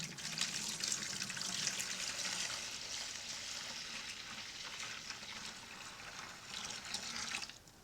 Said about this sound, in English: Now I'm ready to start pouring in the apple juice.